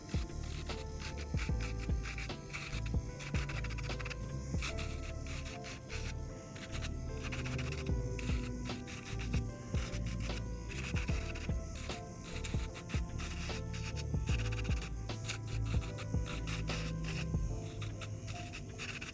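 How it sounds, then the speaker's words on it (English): Electric nail file fitted with a sanding band, run at lowest speed around the cuticle and over the whole nail, giving faint, close scratchy rubbing strokes in an irregular rhythm with no talk. "So I'm just gonna take this sanding band and I'm gonna put it at the lowest speed, and I'm going to work this around the cuticle and over the entire nail."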